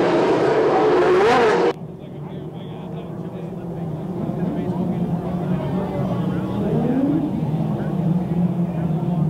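Dwarf race cars roar past the grandstand at a speedway on the lap before the green flag, a loud burst of engines cutting off sharply, then a fainter steady drone of the field circling.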